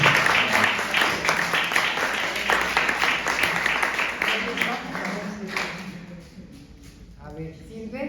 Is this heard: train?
no